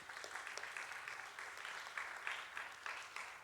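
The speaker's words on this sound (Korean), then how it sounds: "우리 감사하다고 박수하겠습니다." Congregation applause during a Sunday church service, a sustained crowd clapping heard from a distance and fairly faint, steady and dense with a few slightly louder swells, no talking over it.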